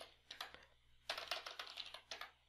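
Typing on a computer keyboard while entering a pip install command in a terminal: quick clusters of close, crisp key clicks in two bursts separated by a short pause, with no one speaking.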